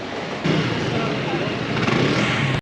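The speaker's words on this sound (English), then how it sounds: "Cars and scooters coming from the front, from behind, from the side." Cars and scooters pass through a narrow street in Naples, a loud close engine rumble and whine that swells briefly, continuous under the street noise.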